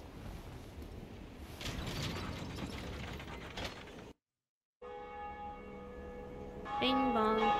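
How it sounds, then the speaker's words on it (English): A bell rings in the Dark Souls video game, its sustained metallic tones clear and resonant after a burst of gritty mechanical ratcheting, then a brief gap of silence, with a bright clanging strike near the end. "Oh, and I can ring the bell."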